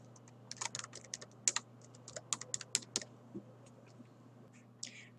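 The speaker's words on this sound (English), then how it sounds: "You can also simply start typing." Fingers type on a computer keyboard in a quiet room: irregular, soft clicks in quick bursts, then sparser taps, over a faint steady electrical hum.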